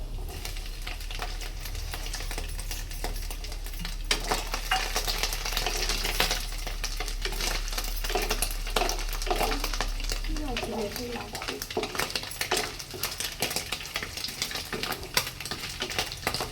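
Coconut pieces fry in oil with whole garam masala, bay leaves, dried red chillies and black cumin, making a steady crackling sizzle broken by frequent quick clicks and scrapes of stirring.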